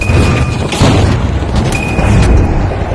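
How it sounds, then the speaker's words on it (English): A frag grenade goes off in The Finals video game, a loud, dense boom sustained over heavy rumbling gameplay noise for a few seconds. "Throwing sonar grenade! Frag right out!"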